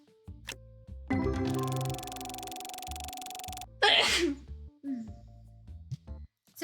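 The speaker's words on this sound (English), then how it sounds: "Sorry about that sneeze." A single sharp sneeze bursts out close to the microphone, with game music and interface tones playing before and after it in a card shop simulator.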